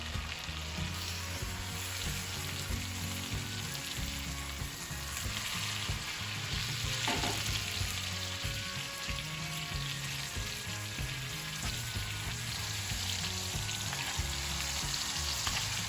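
Steaks searing in a hot pan with butter and minced garlic, reverse seared, giving a steady, dense sizzle and crackle that runs unbroken throughout, with no voices.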